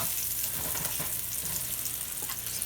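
Thin-cut chicken shawarma frying in small batches in a pan, a steady moderate sizzle with a few faint stirring touches, close and without talk.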